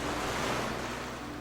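Ocean waves and wind make a steady, dense wash of surf noise that stays constant and fairly loud throughout with no other sounds.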